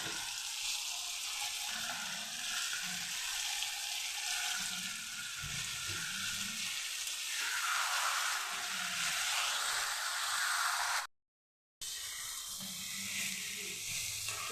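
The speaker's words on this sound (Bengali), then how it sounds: "বিচিটা মশলার মধ্যে দিয়েছিলাম তোমরা দেখতে পেয়েছ ওটা এখন ভাজা ভাজা হয়ে গেছে" Spiced flat bean seeds frying in oil, a continuous soft, hissing sizzle at low level with faint low rumbles beneath, interrupted by a short silent break; no speech.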